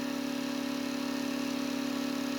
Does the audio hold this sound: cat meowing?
no